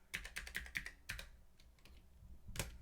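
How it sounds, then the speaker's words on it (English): Quick bursts of keystrokes rattle on a computer keyboard as a word is typed, a fast run of close clicks followed by a pause and a final tap, quiet and without talk. "I'm going to type in refresh."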